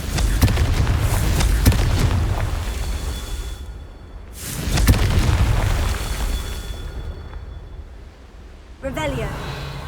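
Blasting-spell explosions from Hogwarts Legacy, two heavy booming blasts with long rumbling decays a few seconds apart, followed by a shorter burst near the end, loud and close.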